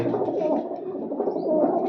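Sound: pigeons cooing

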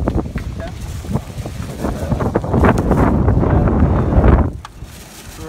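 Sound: wind

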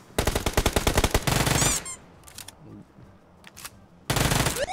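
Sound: gunfire in PUBG Mobile video game

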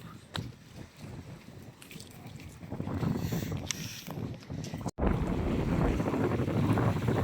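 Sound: strong wind

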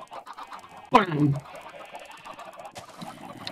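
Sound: chickens clucking in Minecraft video game

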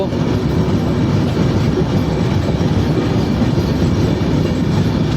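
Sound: train crossing a rail bridge

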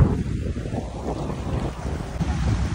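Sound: sea water splashing against boat in Istanbul

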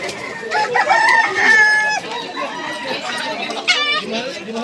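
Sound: fighting cocks crowing and clucking at a chicken market

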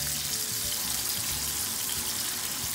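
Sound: frying tuyo dried fish

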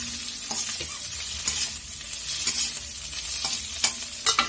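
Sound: paneer frying in a pan for chow mein

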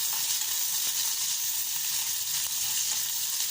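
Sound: garlic, onion and chili frying in a pan

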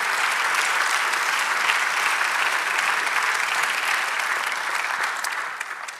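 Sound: congregation applause

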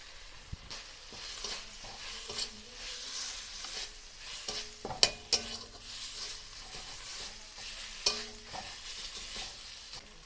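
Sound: frying pointed gourd with ground turmeric, chili, cumin, coriander

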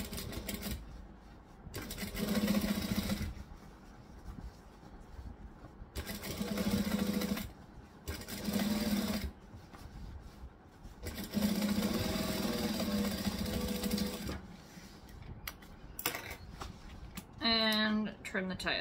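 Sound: sewing machine top stitching a bag

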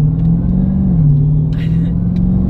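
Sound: Dodge Challenger Hellcat 717 horsepower engine rumbling in sport mode

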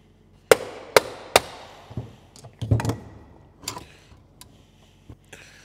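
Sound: straight screwdriver taking apart Jeep CJ5 starter

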